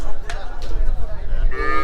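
A cow with its calf lowing at the Saturday cattle market in Hazratpur, Bangladesh, gives one loud, close, drawn-out moo over a steady murmur of the market crowd.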